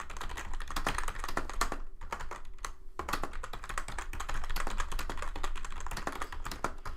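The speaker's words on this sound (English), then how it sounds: "Let me type this up in chat." Typing on a computer keyboard: a steady, close run of quick key clicks with one short pause partway through, and no one speaking.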